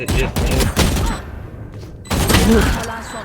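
Rapid bursts of gunfire in a tactical shooter match of Valorant, with clustered broadband cracks separated by brief gaps, loud and close, with voices talking over parts of it.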